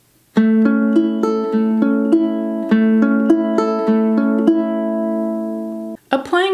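Ukulele fingerpicking a steady rolling pattern at song tempo, bright plucked notes ringing evenly for several seconds, close and clear, ending with a brief scrape of strings.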